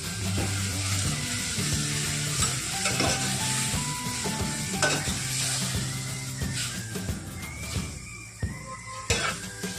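Fenugreek (methi) curry with salt stirred in a pan of oil, a loud continuous sizzle with repeated scraping and clattering spoon strokes against the pan.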